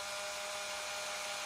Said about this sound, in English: I need to drill the holes for the screws